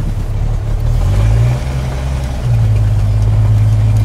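A car engine runs loud and rough with its muffler not yet glued on, a steady close drone that swells as it revs up twice, alone without talk.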